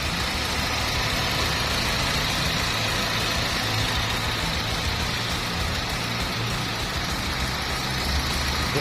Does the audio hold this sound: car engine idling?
yes